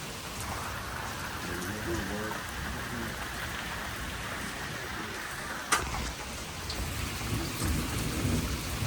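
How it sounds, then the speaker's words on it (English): Heavy rain pours down steadily during a severe thunderstorm in North Carolina, with a sharp nearby thunder crack breaking through the dense rain hiss partway through. "Here comes heavy rain finally."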